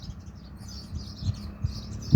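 Sparrows visiting a water spot chirp faintly and repeatedly in the background, with soft low thumps and rumble nearer by.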